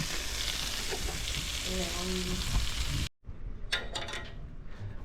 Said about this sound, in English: we're going to roll these taters out right onto the griddle